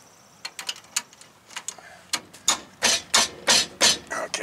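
A ratchet wrench loosens 20 mm brake bolts on a 2012 Dodge Ram 1500 Bighorn, producing a close series of sharp, rhythmic clicking bursts that grow longer and louder toward the end, with no voices.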